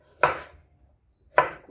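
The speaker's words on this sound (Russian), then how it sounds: "теперь нарезаем огурчик" Two crisp knife strokes chopping cucumber into cubes on a cutting board, about a second apart, close and clear with nothing else sounding.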